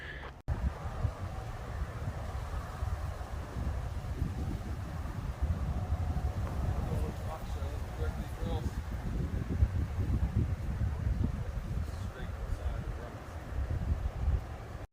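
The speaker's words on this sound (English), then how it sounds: "There's at least some wind flow up here." Wind buffets the microphone steadily near a hiking trail summit on the Appalachian Trail, a continuous low rumbling roar throughout with a faint talking voice beneath it.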